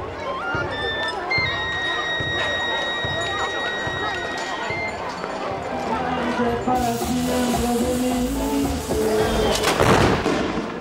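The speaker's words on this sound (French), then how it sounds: "Les déflagrations de pétards commencent à se succéder à un rythme soutenu" Firecrackers burst in rapid succession at a Maya festival in Guatemala, a loud, uneven volley of sharp cracks and bangs mixed with festive music, growing denser and louder toward the end.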